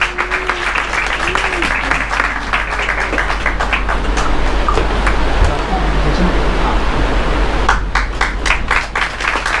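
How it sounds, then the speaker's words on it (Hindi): A church congregation at an anniversary service applauds to welcome the pastor, sustained dense clapping throughout with voices mixed in. "तालियां बजाकर उनका स्वागत आप करें"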